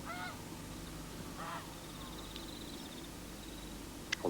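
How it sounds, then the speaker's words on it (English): Canada geese and other geese feeding on a shallow, weedy lake near Queenstown, giving a few faint distant honks and calls over steady outdoor background noise. "there's geese and a few Canada geese over there feeding on the lake bottom."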